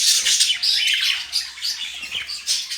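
Male English budgerigars in a breeding aviary, a close burst of harsh squawks and chattering chirps in quick, overlapping calls.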